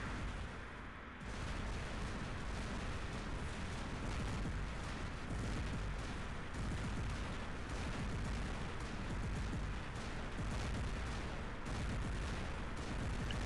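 Dense, continuous weapon fire from robot guns in a plasma Griffin match, a steady dull rattle of overlapping shots and blasts filling the whole stretch with a brief dip near the start and no voices.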